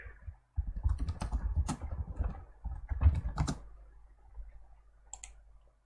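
Quick clicking and tapping at a computer, close and dry, with dense bursts of clicks, a short pause, then sparser taps.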